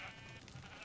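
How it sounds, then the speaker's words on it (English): A sheep bleats on a Minecraft sheep farm in the video game, a short quiet bleat near the start over a faint background hum, no talking. "It is a sheep orgy pit. Yeah, it's a sheep farm"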